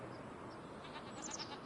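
Sheep bleating in the Farming Simulator video game on a Missouri starting farm, a few faint high calls near the end over a steady background hiss, with no talking.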